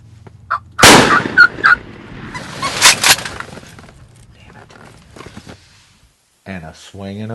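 A youth model 20 gauge shotgun fired at a turkey during an Indiana hunt, one sharp loud blast followed by a short echoing tail, with people talking and bird calls around it.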